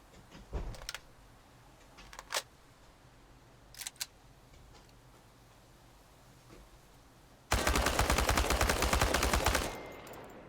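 Rifle fire from the Chernobylite video game: several short, scattered single shots ring out, then a dense, loud automatic burst lasts about two seconds before cutting off, over quiet background ambience with no talk.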